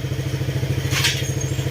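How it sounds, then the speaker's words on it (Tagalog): A motorcycle engine runs after radiator removal, idling with a steady, rapid thumping exhaust pulse through the muffler, close and fairly loud, with a brief hiss partway through. "pinapandar natin at kung mapapansin nyo yung tunog ng makina niya"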